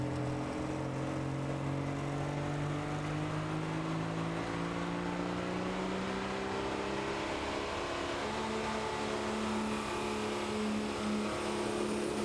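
A Dodge Ram sled-pulling diesel pickup drones steadily while dragging a sled down a pulling track at a Terre Haute, Indiana pro stock diesel event, its engine note slowly rising in pitch over a long, continuous pull heard from a distance.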